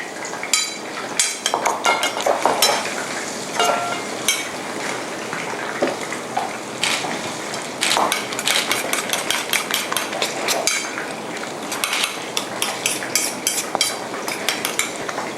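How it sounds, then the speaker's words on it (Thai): Egg mixed with cha-om leaves is beaten in a bowl for a Thai sour curry with fried cha-om omelette, giving a rapid, continuous run of utensil clicks and scraping against the bowl, fairly close and steady throughout without speech. "ใส่ชะอมนะคะ ลงไปใน ชามไข่นะคะ แล้วก็ตีผสมให้เข้ากันค่ะ"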